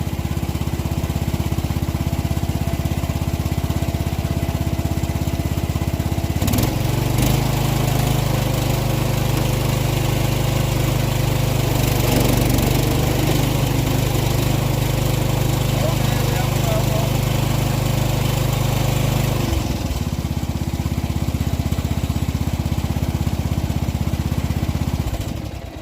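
A restored John Deere riding lawn mower runs loud and close through the whole stretch, its engine note dropping into a heavier, lower drone while it cuts grass in the middle section, then easing back.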